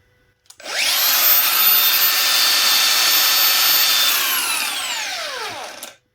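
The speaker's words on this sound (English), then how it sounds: "We're now cutting up the buggy frame." A blade cuts through a corroded steel tube of a go-kart buggy frame, giving a steady loud grinding rasp that holds for about five seconds. It then winds down and stops.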